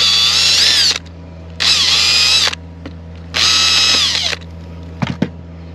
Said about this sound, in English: Now I'm drilling the right size hole for the bolt